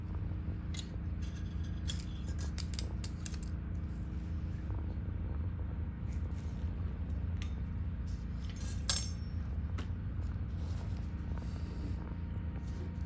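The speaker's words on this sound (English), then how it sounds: "you'll come in with scissors and you'll cut it" Small metallic snips and clicks sound repeatedly over a low room rumble as scissors cut a thin rubber dental dam in short irregular bursts.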